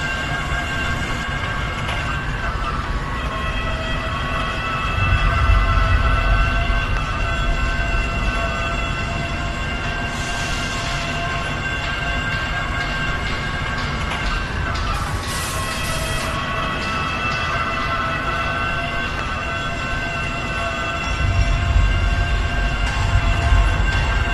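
A train rumbles past in the video game Forklift Simulator with a steady mechanical drone and humming tones, its low rumble swelling heavier at two points.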